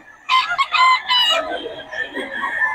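A rooster at a market in Bocaue crows loudly and close by, one long drawn-out call with a choppy start that trails off into lower, wavering notes.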